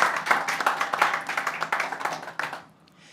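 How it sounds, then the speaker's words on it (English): A conference audience gives a round of applause, dense hand clapping that is moderately close and steady, then quickly fades out near the end. "So, a round of applause for Skip"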